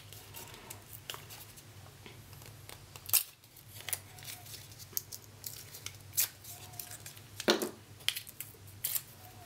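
Scissors snip through paper while a paper embellishment for a magazine mood board layout is cut out, giving a series of crisp, close cuts in an irregular rhythm with short pauses between them.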